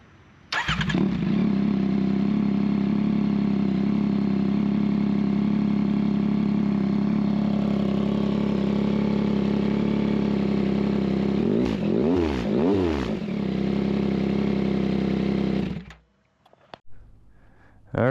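A 2022 Yamaha XSR 900 motorcycle engine starts and settles into a loud, steady idle close by, with a couple of quick revs near the end before it shuts off; no one talks over it.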